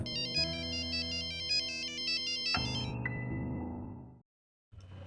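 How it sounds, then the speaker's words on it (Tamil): A phone's ringtone in a Tamil mystery audiobook plays loud and alone as a repeating electronic melody over a steady backing, then cuts off abruptly into a brief silence before a faint tone resumes. "அப்போது அவருடைய ஃபோன் ரிங் ஆனது"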